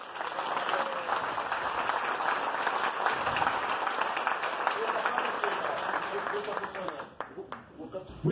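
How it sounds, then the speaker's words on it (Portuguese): An audience at a lecture applauds in a sustained wash of many hands clapping at steady loudness. It thins toward the end as a voice begins to speak. "com o nosso aplauso."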